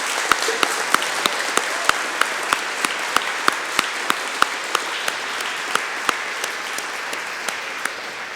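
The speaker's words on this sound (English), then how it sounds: "Can we have one more round of applause for all the students?" Sustained, even applause from an audience at a school DARE graduation honors the students, with a few sharp, close claps standing out against the steady crowd clapping.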